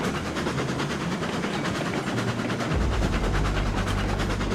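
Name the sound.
train running in a train video game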